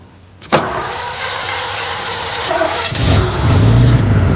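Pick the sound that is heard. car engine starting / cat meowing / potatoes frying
car engine starting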